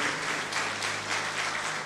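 A church congregation applauds in a broad, dense wash of clapping that stays loud and steady through the short moment.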